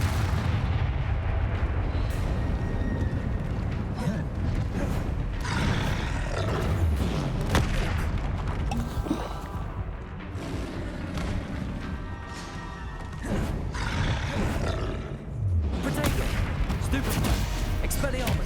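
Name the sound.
Levioso spell cast in video game Hogwarts Legacy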